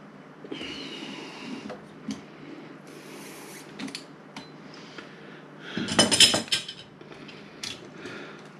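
A Lindemans Kriek beer bottle is handled before opening, producing scattered glassy clinks, taps and rustles, with a louder cluster of clinks toward the end, fairly close.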